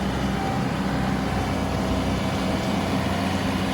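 A John Deere 2038R compact tractor bushhogging tall overgrowth on a hill at about 2,700 RPM with the PTO engaged, a steady, loud engine drone with no let-up or voices.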